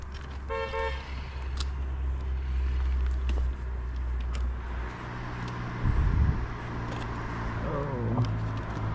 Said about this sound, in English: Let this car pass by.